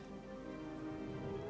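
Rain falling in a World of Warcraft zone, a brief steady patter heard alone with no voices over it.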